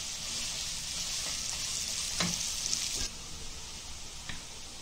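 Fresh spinach leaves fry in a hot pan with a steady, close hiss, and a few sharper scrapes and clinks mark the stirring partway through.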